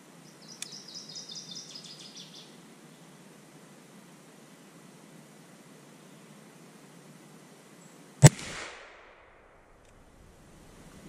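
One loud, close report from a Traditions Shenandoah .36 black powder rifle fired at 32 yards, a single sharp blast with a short rolling tail, after a faint bird chirp against steady outdoor hiss.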